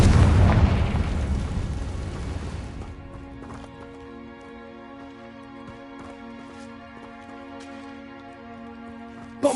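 A Confringo blasting curse bursts in a Harry Potter video game: a loud, broad blast that rumbles for roughly three seconds, then fades out beneath sustained tonal game music.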